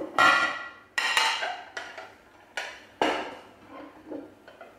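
A plate and bowl clatter as rice is served, several sharp ceramic knocks and clinks spaced about a second apart, close and fairly loud, with brief ringing after each.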